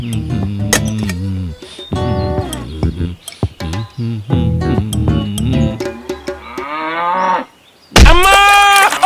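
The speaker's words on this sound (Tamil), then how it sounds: "இது நாட்டு மாடுண்ணே, அதுலேயும் காங்கேய மாடு" Native Kangayam cattle mooing loudly up close, a run of repeated deep, drawn-out calls with brief pauses, ending in a sharper, louder bellow.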